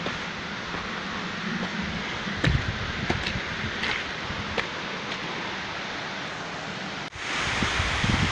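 Steady broadband rush of the waterfall at the cirque de Saint-Même in Chartreuse, heard close and continuous, with a few brief knocks and footstep-like taps over the roar.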